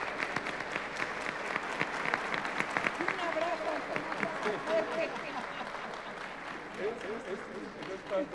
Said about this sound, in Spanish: Pido un fuerte aplauso para el senador.